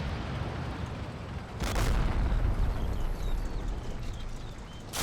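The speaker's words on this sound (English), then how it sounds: "Oh, explosion!" A deep, rumbling explosion from the World War II tank game Combat Mission: Battle for Normandy swells out of a constant low roar and then lingers as a dense, noisy wash.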